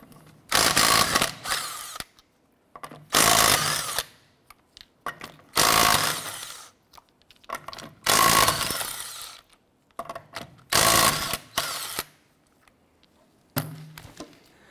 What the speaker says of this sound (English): 19 millimeter socket. Let's go ahead and remove our lug nuts.